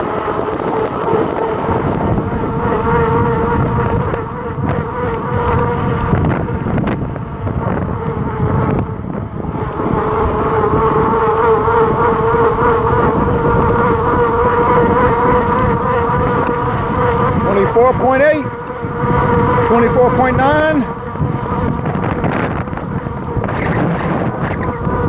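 An HJM all-terrain electric fat tire e-bike runs at its top speed of about 25 mph, a steady high motor whine with heavy rushing wind noise buffeting the microphone throughout, the pitch shifting briefly near the end.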